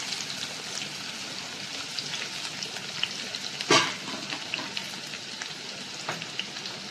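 Finely chopped onion and whole spices fry in hot oil and ghee for veg pulao, a steady crackling sizzle close by, with one louder stirring scrape partway through.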